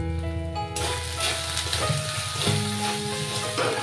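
Ginger-garlic paste with salt, turmeric, cumin powder and Kashmiri chilli powder sizzles steadily in a pan for a Bengali jackfruit and prawn curry, with a broad frying hiss and a few stirring scrapes, no talking.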